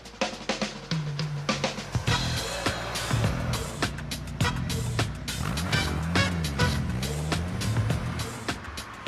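A Ford Escort RS1800 Mk2 rally car drives past under loud, continuous engine noise with rising and falling revs, broken by sharp bursts and clatter; faint voices can be heard in the mix.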